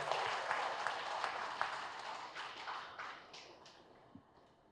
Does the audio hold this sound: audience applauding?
yes